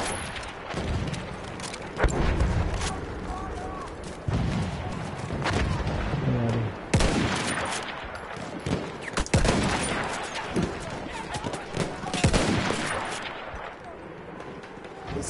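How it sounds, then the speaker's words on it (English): A light machine gun fires in Battlefield 1 amid heavy battlefield noise, with repeated bursts and loud booming shots piling up over roughly fifteen seconds while other weapons crack in the mix. "Nah, I got a light machine gun"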